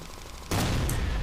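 ACR rifle fire in the third-person shooter Ghost Recon Future Soldier: after half a second of quieter game ambience, a loud sustained burst of gunfire erupts and continues to the end.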